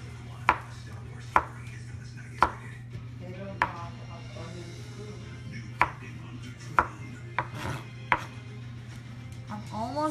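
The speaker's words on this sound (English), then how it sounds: "Teach me how to cut onions." Knife chopping onions on a board, sharp close thuds landing singly about every second, over a steady low hum with faint background voices.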